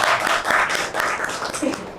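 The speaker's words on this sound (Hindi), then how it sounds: "विवेक सर के लिए ताली हो जाए।" A classroom audience at an AC and PCB repair training institute claps for a teacher, a brief dense burst of applause heard up close.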